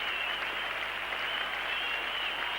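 A cricket crowd at Lord's during a 1975 World Cup one-day match between England and India applauds Dennis Amiss after his innings of 137, a sustained, distant wash of clapping.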